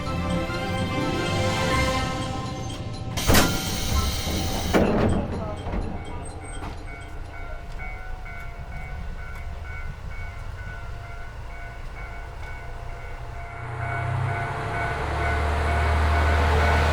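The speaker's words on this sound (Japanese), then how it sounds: "さて列車は湿原を抜けて茶内駅に到着。" Hanasaki Line train arriving at Chanai station after crossing wetland, with steady rumbling wheels and mechanical hum, a brief loud burst midway, and engine noise rising toward the end as it slows.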